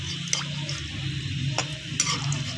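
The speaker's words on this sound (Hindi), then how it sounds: "अब हमने एक और परागा पकौड़ों का डाल दिया कढ़ाई में" Pakoras fry in hot oil in a kadhai, a steady close hiss under a low hum, broken by a few sharp metallic clicks.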